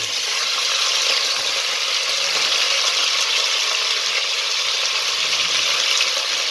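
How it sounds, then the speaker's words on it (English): A kilo of beef sizzling and frying in hot oil in a curry kitchen, a steady, loud, continuous crackling hiss with no talk over it. "So I'll put that in to the hot oil."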